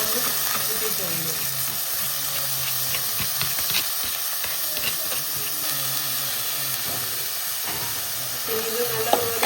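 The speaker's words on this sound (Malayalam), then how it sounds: "ഇത് നല്ലതുപോലെ എണ്ണക്കകത്ത് ഇട്ടൊന്ന് വേവിച്ചെടുക്കും." Chopped banana stem fries in hot oil in a home kitchen, producing a continuous soft hiss and sizzle with occasional stirring scrapes, heard close and fairly quiet against steady background noise.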